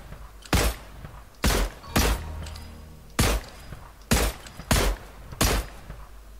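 Seven sharp, loud gunshots in Fortnite fire at uneven intervals, each a hard crack with a short echoing tail, against a quiet background.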